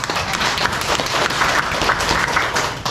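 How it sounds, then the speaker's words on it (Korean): An audience claps together at a health lecture, a dense, steady patter of many hands filling the room close by for a few seconds. "박수 한번 쳐보세요."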